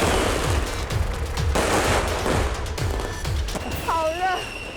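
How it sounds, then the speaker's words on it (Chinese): Dense, continuous crackle of firecrackers and fireworks bursting at a beehive fireworks festival with about a hundred launch towers, a loud barrage of rapid overlapping bangs with a whistling rocket near the end. "今年的风炮节建有近100座炮台，有超过100万支烟花爆竹被点燃。"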